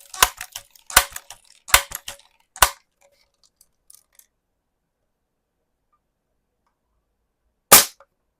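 Shots from a Crosman 760 air rifle: a quick run of sharp, close cracks, some paired, over about three seconds, then quiet before one last loud crack.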